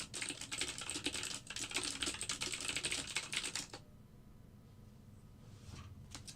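Rapid, close typing clatters on a wireless computer keyboard for almost four seconds, then stops, leaving faint room noise and a couple of stray taps.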